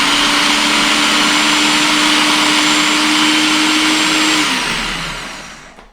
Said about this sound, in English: Just popping our garlic in there, give that a bit of blitz there.